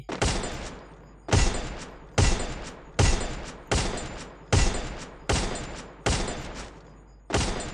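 Gunfire in the Free Fire video game: about nine evenly spaced single shots ring out, each a sharp, loud crack followed by a short decaying tail, with no voices.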